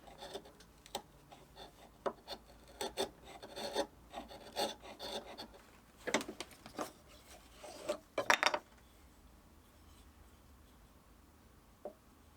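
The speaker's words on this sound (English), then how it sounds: "And finishing off with chisel." Chisel paring wood on a scaffold board cabinet after routing, a series of close, scraping strokes in irregular bursts, ending in a few quick cuts and then quiet.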